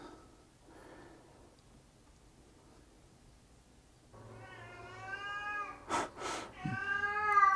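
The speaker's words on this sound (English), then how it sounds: "She's meowing like that at about 5:30 in the morning" After quiet rustling, a cat lets out a long, drawn-out meow close by, broken by a couple of sharp snuffling breaths.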